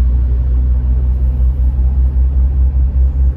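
A 1991 Mercedes-Benz 190E 2.0 E pulls away on a test drive, a steady loud low engine rumble that stays even throughout with no voices.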